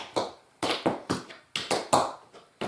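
Tap shoes strike a hard floor in quick clustered riffs, about nine sharp taps in a bright, close rhythm with short gaps between groups, and no voices over them.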